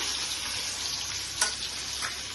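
Soybean chunks fry in a pan for a Bengali radish-and-soybean dish, giving a steady broadband sizzle with two brief louder crackles partway through, close and continuous with no voices.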